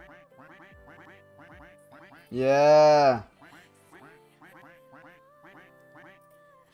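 Cartoonish quacks from a Roblox Duck Army game, a light repeated patter of small quack-like blips under a soft game tone, broken by one loud drawn-out honk in the middle, with a brief spoken word.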